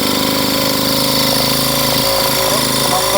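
A whipper snipper motor drives a generator under load, its small engine buzzing loudly and steadily with a rapid rattling pulse, dipping and surging slightly near the end.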